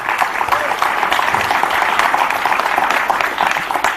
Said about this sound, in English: Can we have a round of applause for Sindhura